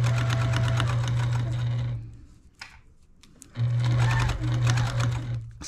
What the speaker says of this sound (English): It is still sewing, but it will need a new needle, because the point will be dull.